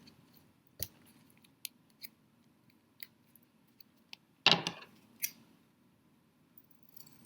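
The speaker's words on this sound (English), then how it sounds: "Can cut off the excess tape." Sharp, brief snips of scissors cutting excess tape off a yarn end during a kids' eco art spider craft, scattered clicks with one louder cut near the middle, close and quiet.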